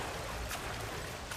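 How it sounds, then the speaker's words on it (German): A waterfall in the video game Far Cry 6 gives a steady, broad rushing wash of falling water, moderately loud and unbroken, with no voices. "El Tigre, ich bin am Wasserfall"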